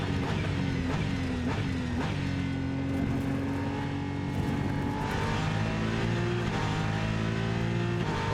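Race car lapping in the racing game Rennsport, a loud, steady engine drone that repeatedly climbs in pitch, drops sharply on gear shifts early on, then rises again in long sweeps through the gears with no voices.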